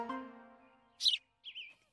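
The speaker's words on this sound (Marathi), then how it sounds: "ती बघ चिमणी" A cartoon sparrow gives two quick, bright chirps in succession, the second slightly longer, after a fading low tonal sound, clear and close with no talk.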